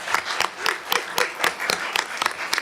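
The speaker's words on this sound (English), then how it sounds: "Can we give them a round of applause and wish them good luck?" Applause from an audience at a school board of education meeting, a brief burst of scattered hand claps with irregular rhythm, moderately close and steady for a couple of seconds.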